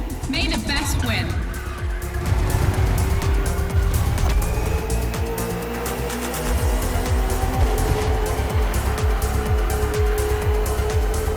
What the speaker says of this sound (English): This evening, the KTM RC16 takes on the Ferrari 488 GT3.